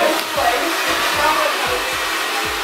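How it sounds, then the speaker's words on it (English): A hair dryer roars steadily up close, its airflow wavering now and then as it is moved around. "We're just blow drying his hair in the direction that we want it to go."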